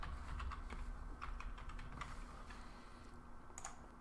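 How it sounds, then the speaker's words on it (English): Fingers type a transaction code on a computer keyboard, giving close, steady key clicks in an irregular rhythm throughout, with no talking. "So I'm just going to type in my transaction code."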